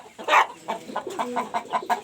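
Chickens from a backyard flock of a rooster, hens and their offspring cluck in a rapid series of short, close calls, a lower rooster note running underneath.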